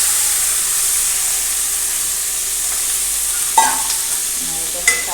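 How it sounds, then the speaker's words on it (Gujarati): Onion and potato pieces sizzling in a hot tempering of mustard seeds, cumin, asafoetida and curry leaves, a steady hiss of oil with a couple of brief stirring clinks toward the end. "હવે હિંગ નાખીશું, મીઠો લીમડો અને ડુંગળી બટેટા છે તે નાખી દઈશું"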